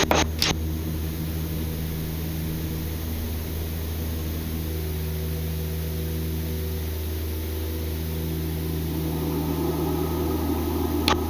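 From inside the cockpit of a Widerøe Embraer E190-E2 jet climbing after takeoff in winter, a steady, loud engine drone with a tonal hum fills the cabin, and brief mechanical thumps come near the start as the gear retracts.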